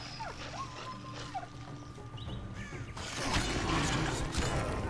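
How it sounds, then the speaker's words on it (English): A dog in The Witcher 2 video game whimpers and yelps in a few faint, brief cries over a murky game ambience with creaks, then a louder rushing noise swells and covers the rest. "you're going to hear the sound of the dog dying"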